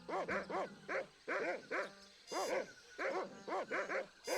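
A dog in the video game Monkey Island 2 barks in a steady stream of short, bright woofs, mostly in quick pairs and triplets with brief pauses, heard up close and clear with no talking.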